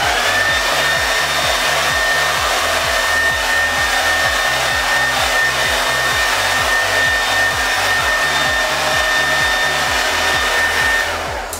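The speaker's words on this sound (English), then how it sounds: "I like to put it on the hot setting with high power just because otherwise this takes forever." A hair dryer running on its hot, high-power setting while blow-drying hair, a loud steady whooshing roar with a faint whine that holds unbroken from start to finish, with no voices.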